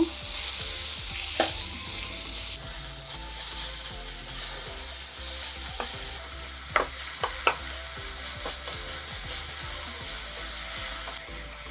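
Chopped tomatoes frying in a pan, a steady close sizzle broken by several sharp spoon clicks and scrapes as they are stirred, easing off near the end.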